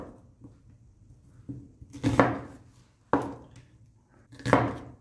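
A knife chops onion on a cutting board in a few separate strokes, each a sharp close thunk with a short rustling scrape, spaced about a second apart.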